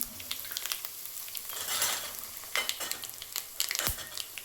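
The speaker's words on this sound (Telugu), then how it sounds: "ఇప్పుడు మనం తాలింపు వేసుకుందాం. జీలకర్ర ఆవాలు" Cumin, mustard seeds and two chillies sizzle in hot oil as a tempering for tomato chutney: a close, crackling fry with irregular pops and spits and a brief low thump near the end.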